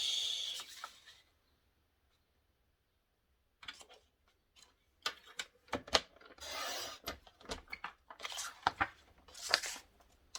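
Cutting a 30 by 30 sheet of paper for a paper album, a quiet pause followed by a string of crisp snips and rasping scrapes, close and faint.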